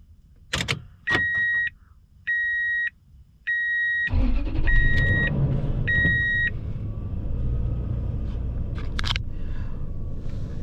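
A 2001 Toyota Tundra, with a few paired chime beeps and clicks before the engine cranks and catches around four seconds in, then settles into a steady low idle rumble close by.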